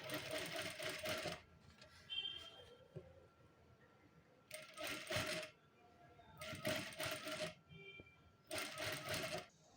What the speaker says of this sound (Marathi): असं अंतर ठेवून एकसारखी अशी टीप मारून घ्या जेणेकरून फिनिशिंग खराब दिसू नये